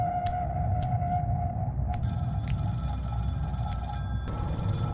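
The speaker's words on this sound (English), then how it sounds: "Can somebody tell me where this phone is?" A phone rings repeatedly in Scream: The Game, with a sustained electronic bell tone and a few sharp intermittent chirps over a low rumbling ambient drone, fairly quiet with no talking.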